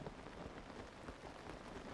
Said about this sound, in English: It's also so rainy and I hate it.